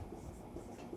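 Chalk or marker scratches across a classroom board during a Class 10 maths lesson, a short steady scraping texture kept up for about a second, moderately close, with a faint voice in the background.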